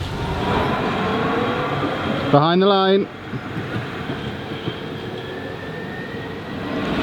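Tram rolling along rails on a hot day, a continuous rumbling drone with a brief spoken announcement midway, then a quieter steady ride.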